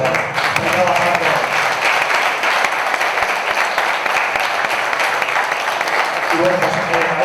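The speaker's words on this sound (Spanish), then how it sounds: "fuerte aplauso" Sustained audience applause fills the hall at a mystery-themed conference in Zamora, steady and dense from start to finish, with faint speech-like murmurs near the beginning and end.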